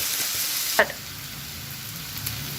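Mutton curry ingredients sautéing in a frying pan: a steady soft sizzle throughout, with one brief clatter of a spoon or spatula against the pan.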